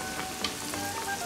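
A large floured chicken fried steak sizzles and crackles steadily as it fries in hot grease, a close, even hiss with small pops and no talking.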